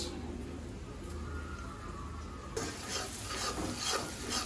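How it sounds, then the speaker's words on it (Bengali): Spices being sautéed in a hot pan and stirred, with a soft, even sizzle at first, then louder scraping strokes of the stirring spoon for the last couple of seconds. "মশলা কষানো হচ্ছে।"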